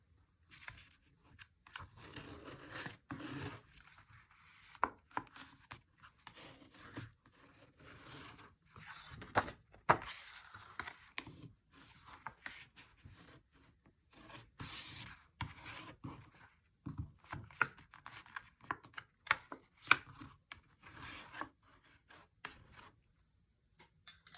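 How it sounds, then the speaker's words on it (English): A bone folder is drawn along fold lines in paper and cardstock, making soft, repeated scraping and rubbing strokes in quick irregular bursts, quiet and close with brief pauses between passes. "I'm going to take my bone folder and just crease those lines"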